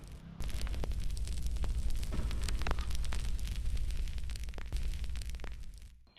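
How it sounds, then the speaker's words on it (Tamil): A cooking stove flame burns at a moderate level, a steady close roar of gas-like rushing noise with faint crackles and pops, starting abruptly and fading out at the end, with no talk. "அடுப்பு வந்து அளவாக எரிஞ்சு கொண்டிருக்கு"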